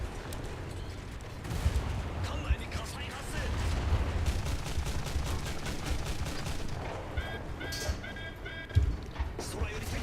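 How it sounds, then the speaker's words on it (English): Enemy warship guns firing in the naval battles of the video game War Thunder: a continuous rumble with bursts of rapid gunfire, under a voice talking throughout. "We are taking some damage now as they're firing back at us."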